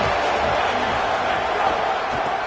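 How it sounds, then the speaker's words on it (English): Football stadium crowd roaring as a steady, dense wash of noise, loud and continuous throughout with no clear breaks. "This crowd ready to make its presence known."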